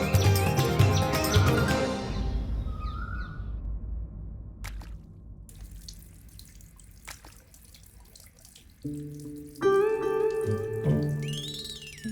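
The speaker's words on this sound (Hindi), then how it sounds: "आप इन पर झूठे पानी के छींटे डाल रहे हैं" Water splashed by hand in a staged comedy scene, wet splashing and trickling that is loud at first, fades into quieter drips, then returns with a burst of sound near the end.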